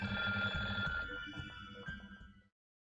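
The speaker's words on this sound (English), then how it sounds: "The big, black, and somewhat antique-looking telephone on the counter was ringing." An antique black telephone on a counter rings in the SeaBed video game, a steady electronic bell tone repeating for about two and a half seconds, loud and alone, then cutting off into silence.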